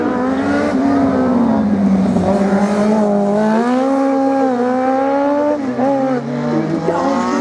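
A Lotus Exige race car runs a slalom track at Lessay, its engine loud and close, pitch rising and falling through gear changes and turns, with tire squeal mixed in.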